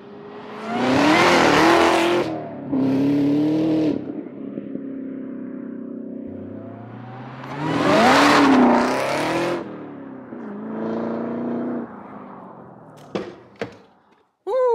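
A 2016-2021 Chevrolet Camaro SS fitted with a cold air intake and carbon fiber parts roars loudly as it accelerates hard twice, with revving surges, shifts and lower rumbling idle between pulls, ending in brief squeals.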